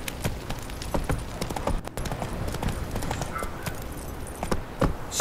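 Clip-clop hoofbeats of Roach, the horse in The Witcher 3, trot in a quick steady rhythm close by, with faint jingling tack and background game ambience.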